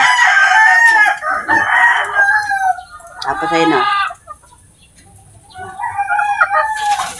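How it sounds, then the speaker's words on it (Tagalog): Hens and a rooster in a backyard coop, loud close clucking and a drawn-out crowing call, then a quieter gap before more clucking resumes; someone speaks briefly in between. "At pasok na tayo dito mga idol. At nandito yung pinakamarami kong mga inahin."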